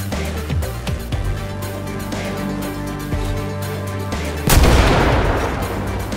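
Gunfire at a military base in GTA 5 zombie survival: scattered sharp shots over a steady musical backdrop, then a louder, denser burst near the end.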